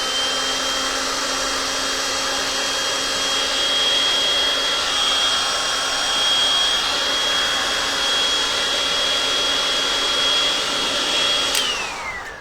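A hair dryer blasts steadily and loudly at a painted pumpkin porch leaner, a constant broadband roar with a whining tone that holds for the whole stretch, then cuts off near the end.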